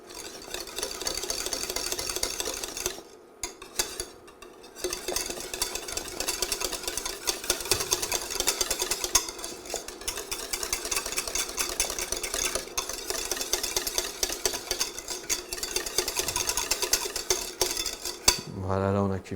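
Grand Marnier pastry cream bubbling in a saucepan on an induction hob while being stirred, with steady scraping and clinking of the utensil against the pan throughout, a brief pause partway, close and continuous.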